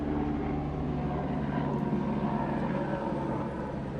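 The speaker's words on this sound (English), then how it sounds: "Helicopters going over." A steady, loud rumble of helicopters passing overhead at an outdoor political rally in the Bronx, a continuous droning roar that fills the whole stretch.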